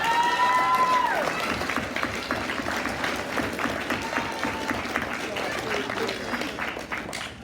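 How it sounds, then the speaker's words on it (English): An audience at a student red carpet gala applauds the Best Animator winner, with steady, fairly close clapping running throughout and a few voices over it. "Totally give one more round of applause"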